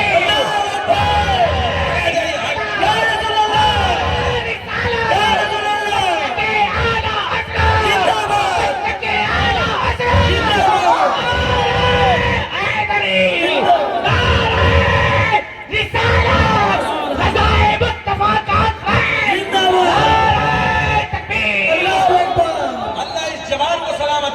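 A large crowd at a religious gathering shouts a loud chanted response to the Takbir slogan. Repeated bursts of massed yelling and cries come steadily one after another.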